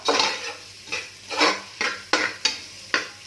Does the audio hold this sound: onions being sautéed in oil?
yes